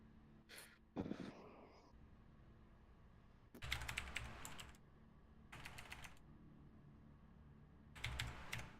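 Several bursts of rapid typing on a computer keyboard, clattering in clusters of a second or so separated by quiet gaps, with a breath or gasp near the start.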